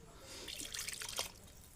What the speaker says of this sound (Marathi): पाणी टाकलं.